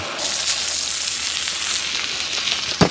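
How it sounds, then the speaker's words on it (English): A steak sizzles steadily on an outdoor skottle griddle, a loud continuous hiss and crackle that ends with a sharp clatter near the finish. "You can see it sizzling."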